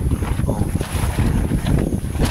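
Gusty wind blowing steadily at the seaside, where a backhoe is parked on the shore. It comes as a rough, rumbling roar buffeting the microphone throughout, with faint voices now and then.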